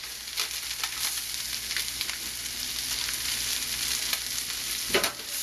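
Sichuan string beans stir-frying in a wok give off a continuous close sizzle and hiss, with scattered light stirring clicks and a sharper scrape near the end, steady and moderately quiet with no voices.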